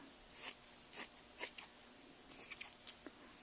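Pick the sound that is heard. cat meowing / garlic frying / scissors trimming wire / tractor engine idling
scissors trimming wire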